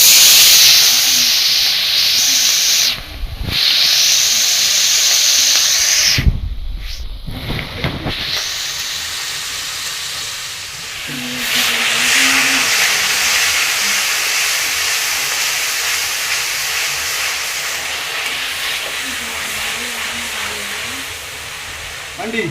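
Spices hit hot oil in a home kitchen pan with a loud, continuous sizzling hiss that dips briefly, then settles into a steady frying crackle, with people talking faintly in the background.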